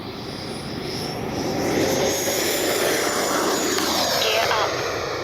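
An E-flite Viper 90mm RC jet with afterburner makes a loud flyby: a roaring turbine whine swells, sweeps past and fades outdoors, with a voice talking under it.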